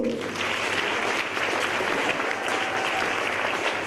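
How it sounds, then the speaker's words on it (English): An audience at a career guidance event applauds steadily, a dense, even wash of clapping from many hands that holds for several seconds, fairly near, with a faint murmur of voices mixed in. "Please give her a round of applause."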